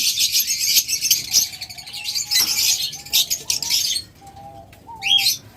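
Caged pet birds, including lovebirds, budgerigars and cockatiels and opaline high-mutation birds, chirp and chatter continuously and loudly up close, with dense overlapping tweets and a few short wing flutters.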